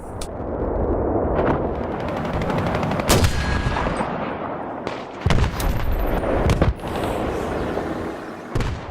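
Rapid bursts of gunfire from a Battlefield 3 multiplayer battle on the Métro map, with several sharp, loud volleys and booming blasts over a constant rumbling battlefield din.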